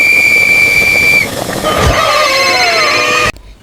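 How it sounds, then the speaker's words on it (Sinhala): A boiling kettle whistles shrilly, holding one steady high tone, then breaking into several wavering, rising tones with steamy hiss before stopping abruptly near the end. "හතරවෙනි එක උතුරන කේතලේ හඬ"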